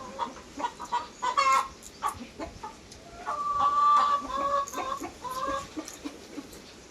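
Chickens cluck and squawk close by, with a few drawn-out calls over a busy background of farmyard noise.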